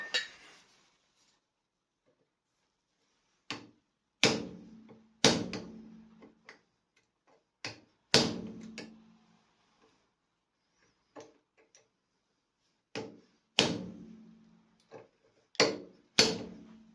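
Close hammer taps on a trailer wheel bearing: about a dozen sharp metallic knocks in irregular bursts, some single and some in quick pairs, with short ringing decays and quiet gaps between.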